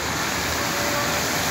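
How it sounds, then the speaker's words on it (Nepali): Water from a tanker sprays hard onto a street in Kathmandu to wash away Holi colours, a loud continuous hissing rush heard up close. "ट्याङ्करबाट चाहिँ पानी लिएर आएर चाहिँ यसरी पानीको फोहरा लाएर"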